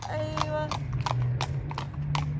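Horse hooves clip-clop at an outdoor spot in Kuwait, a steady series of close, sharp hoof strikes roughly every third of a second, heard alongside people talking.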